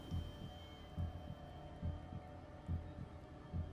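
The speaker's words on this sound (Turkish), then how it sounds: "Kalp atışlarımız hızlandı şu an." Heartbeat in the Song of Horror video game, a deep, muffled lub-dub thumping about four times over a low ambient hum, steady and fairly loud, with no voices.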